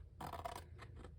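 Scissors snip open the wrapping on a paper craft tag, a few quick close cuts, crisp and quiet.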